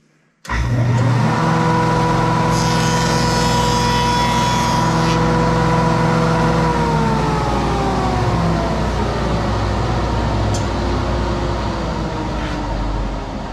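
A Jet woodworking shaper fitted with tongue-and-groove cutters runs a test cut, a loud steady motor whine that starts abruptly, holds for seconds, then slowly drops in pitch as it spins down.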